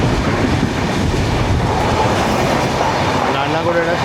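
Nizamuddin–Madgaon Goa Sampark Kranti Express train passing close by, a loud, steady roar of rolling coaches with rhythmic clickety-clack of wheels over rail joints throughout.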